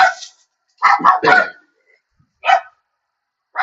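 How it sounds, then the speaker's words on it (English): A dog barks nearby in short bursts, a few quick yaps in a cluster, then a single bark after a pause, with silence between. "as the horses go crazy and the dogs go barking."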